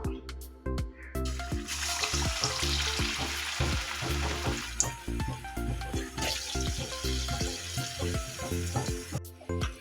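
Banana parcels frying in hot oil in a Kerala cheenachatti on low flame, a continuous close bubbling sizzle with irregular pops and crackles throughout.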